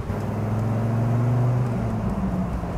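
A 2000 Dodge Viper RT/10 drives with the top down, its engine giving a steady low hum close by, mixed with road and wind noise and no talking.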